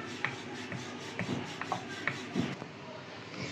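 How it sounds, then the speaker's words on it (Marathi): Puri dough for tomato puris being rolled into a large, medium-thick round with a rolling pin, a few soft close rubbing strokes with light knocks, heard alone. "आता मी ना एक मोठा गोळा घेतलेला आहे आणि त्याची एक छानपैकी मोठी पोळी लाटून घेऊया।"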